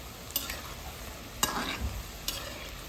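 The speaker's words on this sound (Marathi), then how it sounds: "अशा प्रकारे आपण लाईट गोल्डन असं होईपर्यंत छानपैकी तळून घेऊया" Bhajis deep-frying in very hot oil for an Akshaya Tritiya aamras puri thali, giving a steady close sizzle with three sharp clinks or stirs spread across it, no voices.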